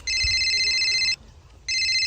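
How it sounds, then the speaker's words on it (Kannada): A telephone ringtone sounds loudly and close, in two bursts of steady electronic tones with a short gap between them, no talking. "ಇವನೇ ಫೋನ್ ಮಾಡ್ತಾವನೆ"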